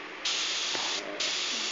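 Compressed air from an airbrush compressor hisses loudly in a steady stream, briefly dipping then resuming, close by and alone.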